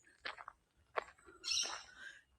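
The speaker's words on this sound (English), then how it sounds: "So very faint, but so very present. I detect tiny birds." Faint, tiny bird calls in a forest at Glenrock State Recreation Area, a few brief chirps at a distance, quiet and scattered.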